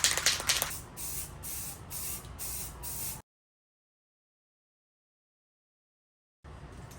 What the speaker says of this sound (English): I'm gonna go ahead and hit it with some white spray paint